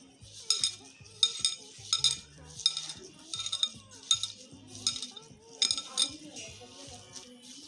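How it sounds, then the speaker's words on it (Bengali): Mashed potato mixed with roasted coriander and cumin powder in a bowl, giving a regular rhythm of spoon clinks and scrapes against the dish, close and moderately quiet. "এখন সব একসাথে এটাকে মেখে নিচ্ছি"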